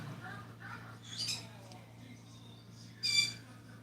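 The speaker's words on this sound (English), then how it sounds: "you've got my birds throwing a fit" Birds squawk and chirp in sharp bursts, a couple of louder outbursts standing out over a low steady hum, fairly close by.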